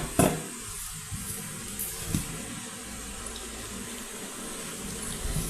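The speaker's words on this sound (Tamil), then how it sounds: "கொஞ்சம் கொஞ்சமாக தண்ணி தெளித்து பிசைஞ்சிக்கலாம்." Water sprinkled a little at a time over maida dough being kneaded for Madurai-style jeera poli, a close, soft splashing and wet patter with a few sharper knocks.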